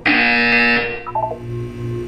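A loud electronic buzzer from the Portal video game sounds in one sustained tone for nearly a second, then drops into softer, lower electronic tones and a hum.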